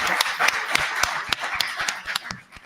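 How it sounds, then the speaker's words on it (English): A small crowd applauds the fire chief at a village trustees' board meeting: scattered, uneven hand claps in a steady patter, fairly close and moderately loud, fading slightly near the end. "Let's give him a round of applause"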